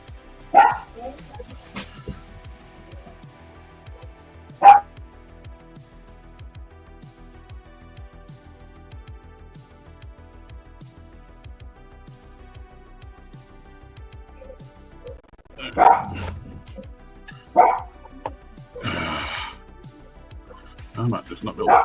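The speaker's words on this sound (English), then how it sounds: "Got a puppy demanding some attention." A puppy gives several sharp, close barks and yips in scattered bursts, with quiet stretches and some talking between them.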